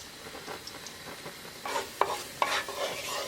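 Cumin seeds hit hot olive oil in a pan with a soft, low sizzle, and quiet stirring scrapes grow louder in the final seconds.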